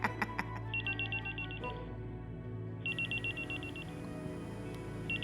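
Telephone rings indoors in repeated bursts of rapid electronic trills, separated by short pauses, over a steady background hum.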